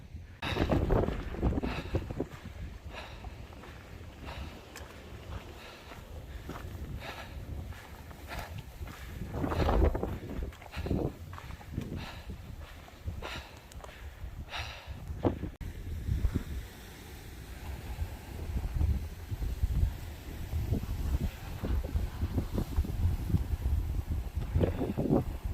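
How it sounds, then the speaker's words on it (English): Strong wind gusting across the Arizona Trail, buffeting the microphone in uneven rumbling bursts, with faint rustling and footsteps beneath. "It is crazy windy."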